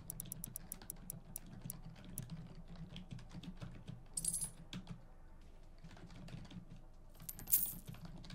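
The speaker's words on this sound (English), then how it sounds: "Sorry, that was typing." Rapid bursts of clicking keystrokes on a computer keyboard, close and fairly quiet, coming in uneven runs with brief pauses and a couple of sharper clacks.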